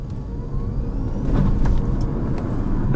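A 2019 BMW i8 runs on electric power only with the windows down, giving a steady rush of road and tyre noise with a faint whine that grows slightly louder, heard from inside the car without talk.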